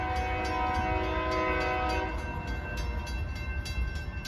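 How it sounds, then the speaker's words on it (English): A CSX freight train horn blasts loud and close in one sustained, slightly off-sounding chord, over the rumble and clatter of a passing 85-car freight train that continues after the horn stops. "Listen to that horn, it sounds kind of broken, or it's just a weird horn on the train."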